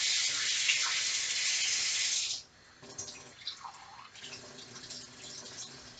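Water poured into a pan for candied nuts alongside sugar and cinnamon, a loud steady splashing stream for about two seconds that stops abruptly, followed by quieter kitchen clinks and handling noises.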